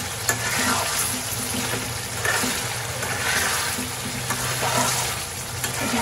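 Food frying in a pan, a continuous moderate sizzle with soft stirring scrapes throughout, no voices.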